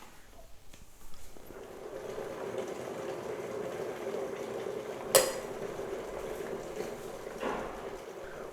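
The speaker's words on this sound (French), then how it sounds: "je mets la bouilloire en marche pour porter l'eau à ébullition" An electric kettle heats water toward a boil in a home kitchen. A steady low rushing hiss builds and holds throughout, with one sharp click or clink partway through and a soft knock near the end.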